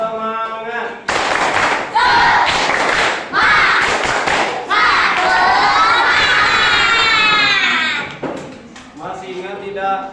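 Schoolchildren in an Indonesian classroom doing a rhythmic spirit clap chant, loud shouted chanting voices with bursts of clapping and thumping in patterned sections, energetic and close.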